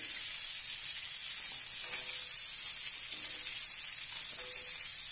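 Chopped vegetables sizzling and frying in a pan of hot oil for a prawn chorchori, a steady hiss with a few soft stirring scrapes, close and continuous with no talk.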